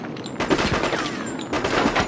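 A sniper rifle fires in the PS2 first-person shooter Cold Winter: two loud, sharp shots about a second apart, each with a short rumbling tail.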